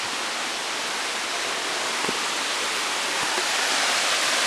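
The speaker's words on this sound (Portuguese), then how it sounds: "estamos descendo e a cachoeira tá lá, ó" A high waterfall in Tamarana, Paraná, Brazil roars as a steady, dense broadband rush, continuous and fairly close, with no voices over it.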